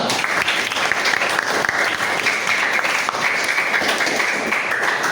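A classroom group in an Indonesian Islamic-studies lesson gives a round of applause, with dense, steady clapping that fills the room evenly for several seconds.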